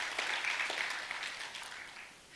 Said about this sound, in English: So please do give her also a round of applause.